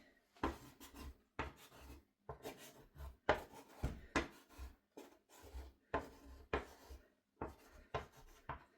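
Pencil or brush scratching across paper while sketching poppies for a painting, a run of short rasping strokes in an uneven rhythm, close and fairly quiet with brief pauses between strokes.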